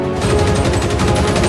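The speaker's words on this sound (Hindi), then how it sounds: "मुझ पर गोलियां चल रही हैं।" Dense, continuous gunfire in a shooting video game near a pier and roller coaster, loud rapid bursts blending into a steady roar with no pauses.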